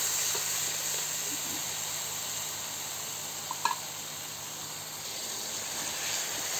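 Spice paste frying in oil in a pan for a Bengali fish curry, a steady soft sizzle and hiss running throughout with one brief tap near the middle, no talking.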